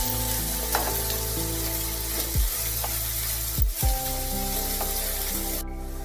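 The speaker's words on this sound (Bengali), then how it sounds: "এবার তেলের মধ্যেই ক্যাপসিকাম, পেঁয়াজ সমস্ত কিছুকে ভালোভাবে নাড়াচাড়া করতে হবে।" Capsicum and onion fry in hot oil for a yogurt-style shimla mirch dish, giving a steady sizzle with a few scraping stirs of a spatula against the pan and no talking.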